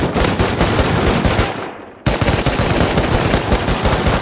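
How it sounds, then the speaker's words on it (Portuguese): Rapid video game gunfire rattles off in dense automatic bursts, loud and close, with a brief cut in the middle before the firing resumes just as fast. "eu preciso atirar"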